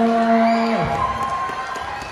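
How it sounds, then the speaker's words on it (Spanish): Crowd cheering and applause at a quinceañera party swells and carries on in a dense, lively wash after a brief moment of music, with whoops and shouting voices mixed in. "Un aplauso bien fuerte para ellos"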